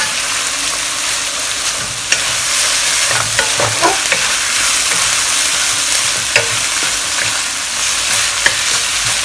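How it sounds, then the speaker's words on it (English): Around 150 grams of deshelled, deveined prawns sizzle steadily in a hot pan during a Korean spicy seafood stir fry, with repeated scraping and clinking of a spatula as they are stirred; no one speaks. "We will now add in our prawns."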